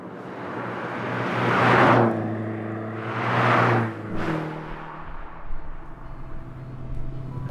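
A 1980 Porsche 924 Carrera GT engine swells in two broad surges, rising and falling as the car runs, then settles to a steadier lower hum with some background noise.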